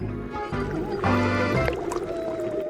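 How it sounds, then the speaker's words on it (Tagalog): Spaghetti-stuffed sausages go into a pot of boiling water, bringing liquid splashing and bubbling gurgles at close range, with a few brief clinks and some shifting in the middle. "Ngayon ilalagay ito sa isang kaldero ng kumukulong tubig."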